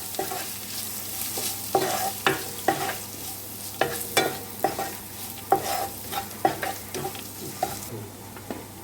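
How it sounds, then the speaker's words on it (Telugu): Sweet potato pieces fry with salt and chili in a pan, a steady sizzle broken by regular scraping stirs of a utensil, close and moderately loud, with no talking. "కొంచెం సాల్ట్ కారం ఇవన్నీ ఒక ఐదు నిమిషాలు బాగా వేసుకోవాలి"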